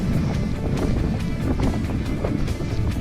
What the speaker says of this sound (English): and it's quite windy